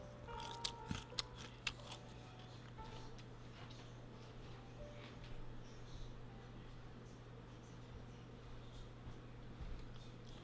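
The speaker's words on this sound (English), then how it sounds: "You guys hear that crunch though?" Crunchy bites into air-fried dough crust, a few sharp crackles early on, then softer chewing close to the mic at a low level under steady background hum.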